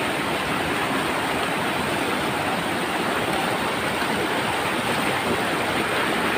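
A river stream rushing steadily, a loud, dense, unbroken wash of flowing water close by, with no voices.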